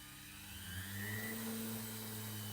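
A washing machine motor on a speed regulator hums and whirs steadily, its pitch rising slightly as the speed is increased, close and continuous with no talking.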